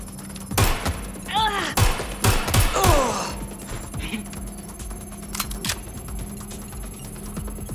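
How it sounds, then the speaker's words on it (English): Gunfire in the video game Watch Dogs: Legion: several sharp shots burst in a quick cluster near the start, then sparser impacts, mixed with in-game voices and effects over a steady background hum. "I'm on my own! They're shooting!"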